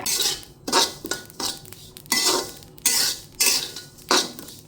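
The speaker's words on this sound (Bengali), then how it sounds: "চুলার আঁচ মিডিয়াম রেখে তারপর ভেজে নিচ্ছি" Radhuni spice seeds dry-roasting in a pan over medium heat, with about six rhythmic metal scraping strokes as a spatula pushes the seeds around, close by and with no talking.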